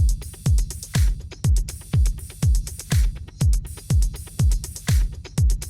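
An electronic drum beat with a pitched-down sample repeats in a steady loop, with a punchy low kick-like thump on each beat and crisp hi-hat ticks between, loud and even with no talking.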